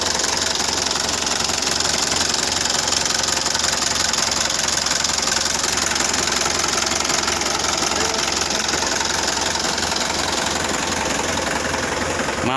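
Engine of a Mitsubishi Canter FE84G truck chassis running steadily at idle, a continuous close, loud mid-low diesel-like rumble with a faint rhythmic knock, no pauses over the whole stretch.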